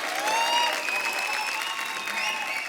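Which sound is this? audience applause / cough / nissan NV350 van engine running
audience applause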